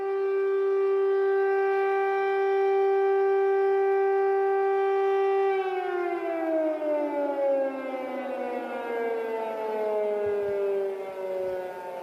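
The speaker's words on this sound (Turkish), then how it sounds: "Bu siren sesini bir duyun sizde." A loud air raid siren wails at a steady pitch over a city in Ukraine, then slowly winds down, with the descending tone echoing across the city.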